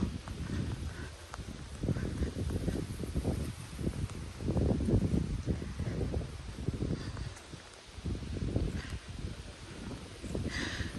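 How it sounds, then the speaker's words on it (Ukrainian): Steady rushing warm wind buffets the microphone in uneven gusts, swelling and easing throughout, with faint outdoor rustle underneath, in a park in Kryvyi Rih, Ukraine, where anglers fish nearby. "Вітер е, поривами, але вітер теплий"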